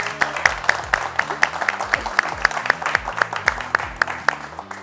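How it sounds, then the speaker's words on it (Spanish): Audience giving applause at a motorcycle restoration gathering, a dense run of hand claps with some sharper individual claps standing out nearby, fairly loud and continuous over a low background. "les voy a pedir el favor, un fuerte aplauso"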